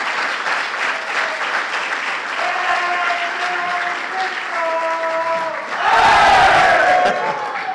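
An audience at a talk on sport and resilience claps steadily while a few people cheer and whoop, tonal calls rising above the clapping, then a louder surge of cheering near the end.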